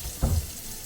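Tap water splashes briefly into a glass in a home kitchen, a short close burst of less than half a second against a quiet background.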